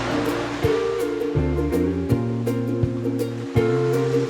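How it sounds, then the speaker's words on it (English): Ocean waves roll onto a tropical beach in a broad, steady wash of surf, overlaid by sustained musical chords that change every second or so. "There's something incredibly therapeutic about the sound of the ocean."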